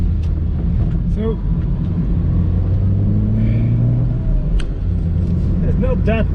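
A 20-year-old Ford Street Ka convertible drives along a road with a steady, loud engine rumble and road and wind noise filling the cabin, and a voice talks briefly over it.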